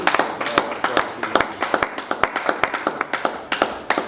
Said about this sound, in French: Acclame pour la prière